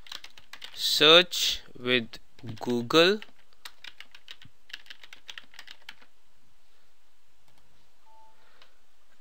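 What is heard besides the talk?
typing on a computer keyboard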